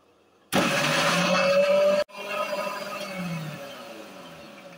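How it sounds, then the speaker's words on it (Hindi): An electric grinder pulsing a mixture of ground almonds and fruit puree for kulfi starts abruptly with a loud whirring roar, cuts out briefly, then restarts and runs on, near and loud, with no talking. "इसको भी ग्राइंड करेंगे दोबारा से।"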